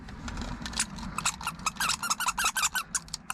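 Squeaky toys at a Goodwill thrift outing are squeezed repeatedly, giving a quick run of sharp, close squeaks in an uneven rhythm that grows denser and louder toward the end, over low background rumble.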